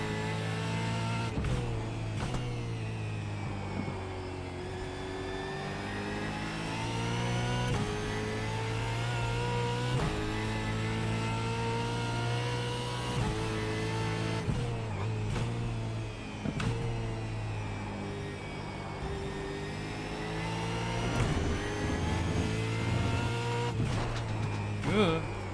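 Australian Supercars race car in the iRacing sim at Brands Hatch, its engine droning and revving steadily at high pitch with shifting harmonics throughout, loud and continuous, with occasional speech over it.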